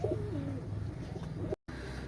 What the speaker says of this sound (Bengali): এই 1 জোড়া সাকিটেডি কবুতর